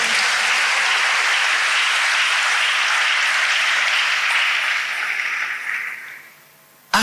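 A church congregation bursts into loud, sustained applause that fills the space, then slowly fades over several seconds before a brief final burst.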